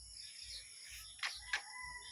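Two short bursts of rooster crowing and chicken calls from a chicken farm in Siargao ring out at a middle distance over a low, steady rumble of background noise.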